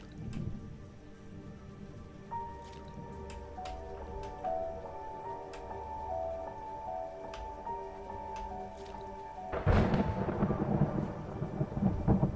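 Rain and rolling thunder in the video game Gebub's Adventure, a steady wash of rainfall with soft game music tones over it and a louder rumble of thunder swelling near the end.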